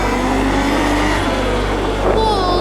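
A 48-volt electric bike pulls away with a rising whine over wind and road rumble, heard up close for under three seconds, with a voice talking over it.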